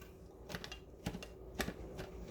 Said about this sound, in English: And with the jalapenos, I thin dice.